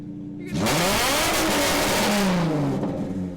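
A Nissan 350Z sports car engine revs hard with a loud, raspy custom exhaust, pitch climbing then falling, close and alone.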